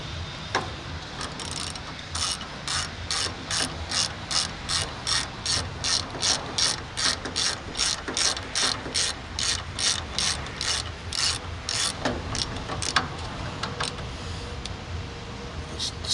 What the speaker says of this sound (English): just go back to the ratchet.